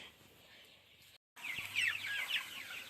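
Chickens in a poultry farm cluck and chirp in a busy chorus after a brief gap of silence, with a steady low background hum throughout.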